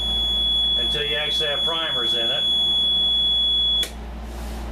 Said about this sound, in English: So that's the alarm that you hear